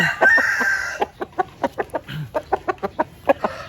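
A breeding rooster kept as a dual-purpose bird for native and game fowl crossing crows loudly and close by, one long call followed by a rapid run of short, sharp clucks, with no talk over it.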